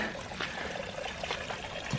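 Runoff water rushing through a flooded side ditch on rural land like a small waterfall, a steady close splashing and gurgling flow with no voices.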